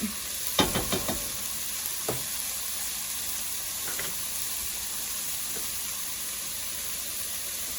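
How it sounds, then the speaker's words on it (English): Minced garlic sizzles quietly in a pot for creamy chicken soup, a soft steady frying hiss with a few brief clinks of stirring near the start, no one talking. "I'm going to give that a stir and let that go for about 30 seconds until the garlic blooms"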